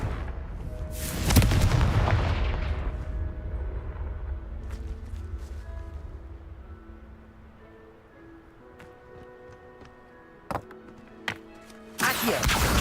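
A Confringo fire spell in Hogwarts Legacy detonates with one loud, deep blast that rumbles away, followed by quieter game tones and a few sharp impacts near the end.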